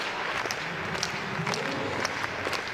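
An indoor athletics arena crowd claps rhythmically in unison for an under-15 boys triple jump competition, a steady beat of distant claps over a broad hall murmur.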